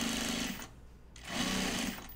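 A sewing machine stitches a quarter-inch seam in fabric, running in two quick whirring bursts separated by a brief pause, close and fairly quiet.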